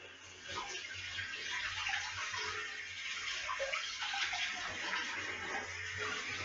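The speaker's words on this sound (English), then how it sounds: "make sure the water comes out and make sure there's no soap whatsoever." Running water splashing steadily while a trumpet is rinsed in a tub, a continuous close gushing with no talk.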